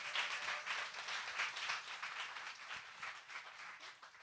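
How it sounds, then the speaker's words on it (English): Audience applause at a school winter music showcase, a fairly quiet spread of clapping hands that swells slightly and then tapers, with no speech over it. "So give a big round of applause to our Showcase team."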